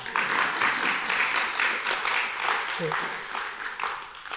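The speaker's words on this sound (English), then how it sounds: "You should applaud" Dense, sustained applause from a lecture audience at a university talk, a continuous wash of clapping with murmured voices underneath.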